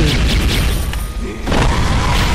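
Loud booming blasts and crashing impacts from explosions during a boss fight in the video game Closers Online fill the clip, dense and continuous with a short lull midway.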